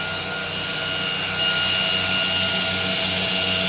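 A 2x72 belt grinder runs at steady speed, a loud, continuous droning whine with a humming motor tone that swells slightly partway through, close up with no voices.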